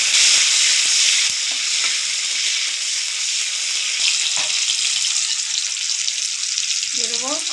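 Tomatoes dropped into hot white oil with whole garam masala, crackling and sizzling steadily throughout as they fry, with a brief scrape of stirring near the end.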